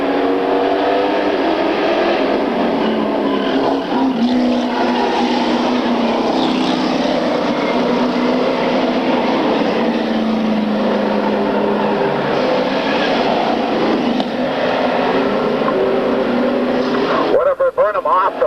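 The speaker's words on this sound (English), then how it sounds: "Mullins, your early race leader in the 55, trying to stretch it out over Steve Bennington in the 11." Race cars run on a circuit during a 1995 race, a steady blended roar of engines heard from a distance under continuous commentary.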